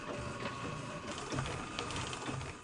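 Milling machine taking a roughing pass on a steel bed clamp for a South Bend lathe steady rest, a continuous gritty cutting noise with rattling texture, fairly faint and steady throughout.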